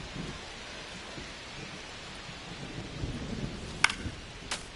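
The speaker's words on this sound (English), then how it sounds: "This rain is not letting up." Steady rain hisses throughout a thunderstorm in the MLB 25 baseball video game, with low rumbles of thunder underneath and a couple of sharp crackles near the end.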